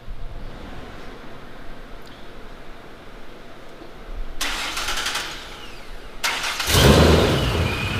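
A Procharged 4.0 V6 car engine on a dyno cranks briefly, then catches on a second try and roars to life loudly, settling into a rough, heavy idle with no talking.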